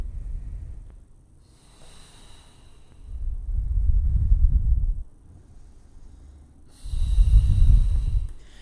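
Slow, deep breaths during a yoga practice, two long airy exhales swelling and fading close to the microphone with quieter pauses between them.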